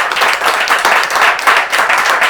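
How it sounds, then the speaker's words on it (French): An audience claps loudly and steadily in continuous applause, with a dense, even patter from beginning to end. "on applaudit très fort toutes ces interventions"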